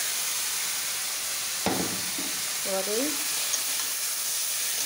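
Batta fish frying in hot oil in a wok, with a steady loud sizzle throughout, a brief clatter partway through and a short spoken word over the sizzling.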